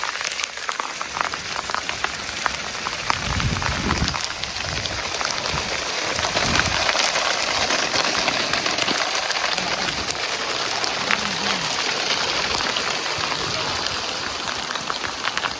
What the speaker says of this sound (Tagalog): Inabutan kami ng ulan na may kasamang hail.